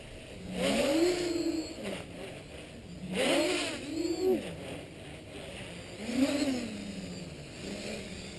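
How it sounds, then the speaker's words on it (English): Tricopter drone motors at full throttle on a speed run, whining in repeated surging sweeps that rise and fall as the craft passes, fairly close and with no talk. "these motors really cook. They pull 60 amps at full throttle and really go fast."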